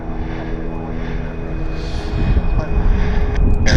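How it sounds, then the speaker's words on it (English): WestJet airliner starting its takeoff roll on a wet runway, a broad engine roar that builds steadily in loudness over the clip, heard from a distance. "WestJet on the roll."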